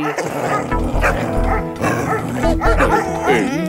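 A dog barks and yips in quick repeated bursts during a comic skit, loud and close, mixed with music playing underneath.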